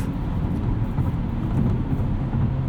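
A 2022 Hyundai Elantra N with a manual gearbox hums steadily from the cabin, a low continuous engine drone with no clear rise or fall in revs.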